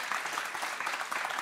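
Brief burst of studio audience applause on a French television set, close steady clapping with no speech over it.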